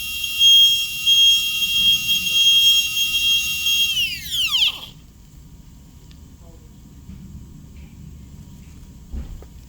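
A high-speed dental handpiece runs at 200,000 RPM while cutting a cavity in a lower second premolar, giving a piercing steady whine that drops sharply in pitch as it spins down, followed by quiet room noise.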